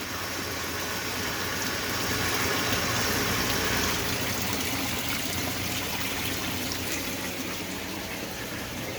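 Water drains steadily out of a homestead water line, a continuous close rushing trickle with no pauses.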